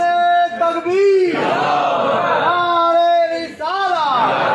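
A large crowd roars back in unison to the Naara-e-Takbeer chant at a Garib Nawaz celebration gathering for Ajmer Sharif, loud, sustained voices swelling and falling in two or three waves.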